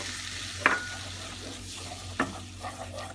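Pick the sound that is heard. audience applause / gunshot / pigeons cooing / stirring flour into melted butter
stirring flour into melted butter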